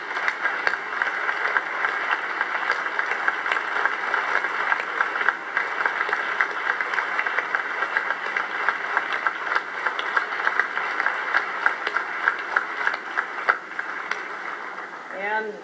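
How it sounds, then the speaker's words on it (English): Audience applause for Apple staff at the iPad 2 launch event, a long sustained wash of clapping from a large crowd in a hall, fairly loud and even, with faint voices mixed in. "if you guys could just stand up so we could give you a round of applause"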